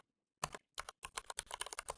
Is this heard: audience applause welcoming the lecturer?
no